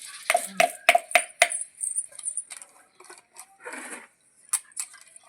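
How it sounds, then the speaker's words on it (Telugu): Green chillies and coriander seeds being ground in a stone mortar for tomato chutney: a quick run of hard, close clacks of stone on stone, then softer scraping and rubbing strokes with short gaps. "పచ్చిమిరపకాయలు రోల్లో పెట్టి ధనియాలు పెట్టుకొని బాగా ఇట్లా రుబ్బేయాలి"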